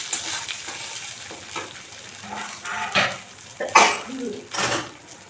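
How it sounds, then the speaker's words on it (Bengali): Spices frying in a little oil with a pinch of turmeric for khichuri, a soft steady sizzle with intermittent louder spatters and scraping stirs of a pan, close by. "এদিকে মশলাটা ভাজা হয়ে গেছে।"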